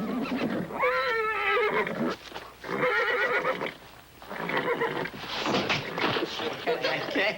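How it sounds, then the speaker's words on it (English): A horse whinnies loudly and close several times, the shrill calls rising and falling, with other voices and movement in the background. "That horse is loco."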